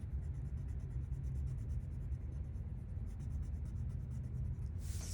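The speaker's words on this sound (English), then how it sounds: "I'm gonna use the colored pencil" A colored pencil scratches steadily across paper while a beak is drawn, a soft, continuous scraping texture under a low background rumble, with a brief brighter stroke near the end.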